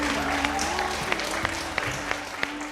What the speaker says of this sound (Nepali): एकचोटि उहाँको टिमको लागि पनि जोरदार ताली प्लिज